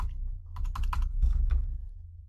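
Quick burst of computer keyboard keystrokes entering a numeric value in spreadsheet software, a close, steady run of taps over a low background hum.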